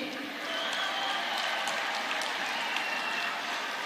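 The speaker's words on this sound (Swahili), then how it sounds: "Mkuu wa mkoa wangu anapiga makofi na yeye yumo" A regional commissioner and a gathered audience at a political party meeting clap together in a brief, moderately distant patter of applause, with a voice speaking over it.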